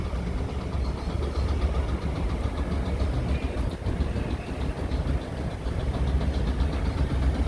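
A fishing boat engine runs steadily after starting, making a loud, continuous rumbling drone with an even mechanical chug throughout and no speech over it.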